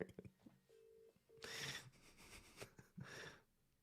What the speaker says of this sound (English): I'm going to ring FPL Pickle to wake her up.